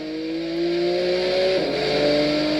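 A race car laps a track during a time attack event, its engine holding a loud, sustained tone that rises steadily, briefly dips as it shifts near the middle, then climbs again, with no talk.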